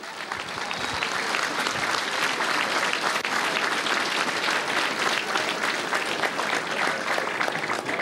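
Sustained, dense applause from a crowd at a county senior hurling final, steady and loud throughout with no pauses.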